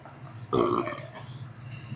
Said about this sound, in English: I burped.